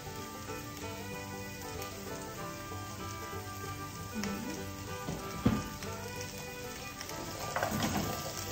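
Whole okra sautéing in olive oil in a pan, a steady soft sizzle and crackle running throughout with a few louder pops and clatters near the end, no voices.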